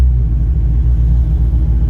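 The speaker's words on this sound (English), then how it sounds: "To a stoplight, we're gonna idle for a little bit" Close, loud and steady idle rumble from a Mustang's engine, fitted with a Mishimoto radiator, sitting at a stoplight; the deep, even throb holds without any rise in revs.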